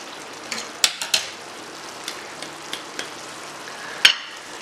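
A spoon stirs black split lentils cooked with minced meat and green chillies in a pot, a soft sizzle under a series of light taps and clinks, one sharper knock near the end.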